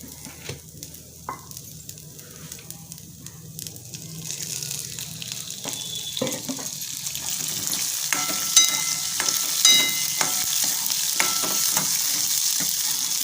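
Green chickpeas roast with a little oil in a pan, giving a steady sizzle and crackle that swells and brightens over time, with light stirring scrapes and a brief bit of running water near the start.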